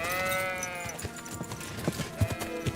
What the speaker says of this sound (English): Why are the sheep not sleeping?